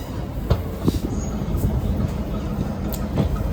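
The Kakatiya Express, a diesel-hauled passenger train, runs along the track with a steady rumbling roar and periodic wheel clicks and thumps over rail joints, heard from on board.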